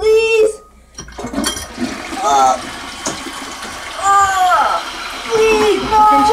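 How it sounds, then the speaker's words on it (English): A rushing, gurgling toilet flush runs through most of the stretch, loud and close, with excited, high-pitched voices talking and calling over it. "Oh, don't flush it, please!"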